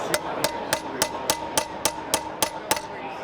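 Sharp metal hammer strikes ring out in a steady rhythm, about eleven evenly spaced blows as a screw extractor is hammered into a bolt, close and clear with no talking.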